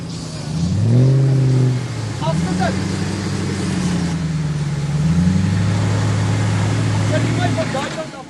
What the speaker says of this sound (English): Andrew faces this obstacle armed with a 4-litre Lexus V8 engine.